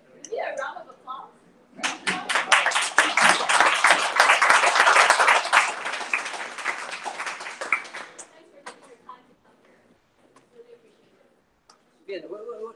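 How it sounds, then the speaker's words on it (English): An audience at a talk breaks into applause that swells quickly, holds dense and loud for several seconds, then fades out, with people speaking before and after. "Maybe a round of applause"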